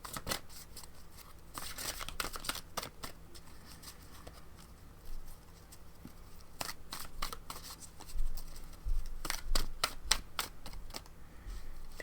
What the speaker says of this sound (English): just shuffling my cards, and I was shuffling one of my oracle decks